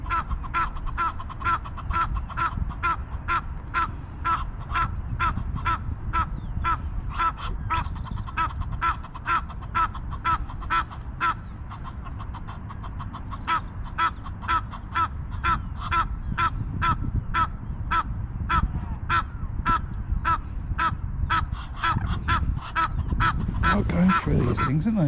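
Noisy crows, ducks and geese at a frozen lake call in a steady, rapid run of loud honks and caws for the whole stretch, joined by a brief rustle near the end.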